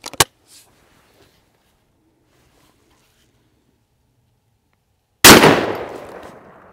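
A short-barreled shotgun fires a Winchester AA wax slug: one loud, sharp blast after several seconds of near silence, with a ringing decay trailing off to the end.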